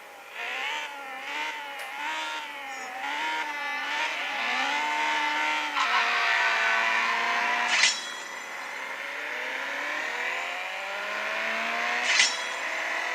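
Mobile racing game CSR2 running on a Xiaomi Mi Note 2, with race cars revving through rising and falling engine tones and brief sharp bursts near the middle and end, steady and up close with no talking.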